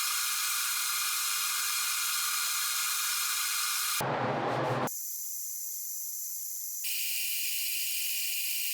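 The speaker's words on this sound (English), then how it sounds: "Now I'm going to spray it with some Rust-Oleum matte clear enamel." An aerosol can of Rust-Oleum matte clear enamel sprays in a steady hissing burst, followed after a short break by further sustained hissing sprays, close and fairly loud.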